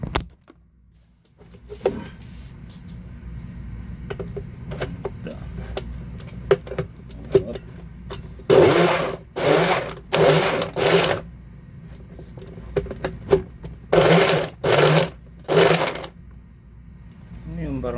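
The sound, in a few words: blender running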